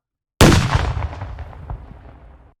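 Compressed library explosion effect: a sudden loud blast with a punchy, poppy attack, then a rumbling tail that fades over about two seconds, heard alone.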